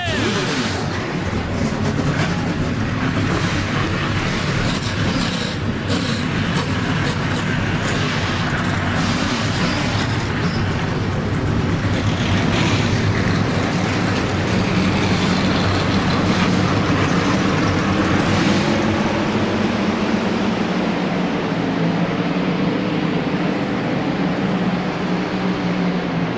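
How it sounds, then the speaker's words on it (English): Stock car engines start up together in the NASCAR Racing 2003 video game at Martinsville, a loud, continuous layered roar and rumble of many V8s that fills the whole stretch, easing slightly near the end. "Drivers, start your engine!"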